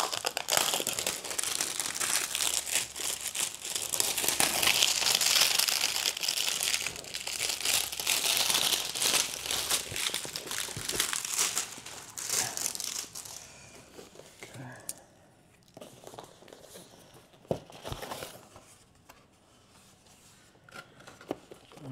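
Cardboard packaging and plastic wrap around Lone Rider motorcycle lights crinkle and rustle almost constantly for about thirteen seconds, loud and close, then quieten to a few scattered crackles and taps.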